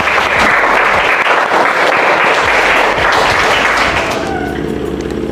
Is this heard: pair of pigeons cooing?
no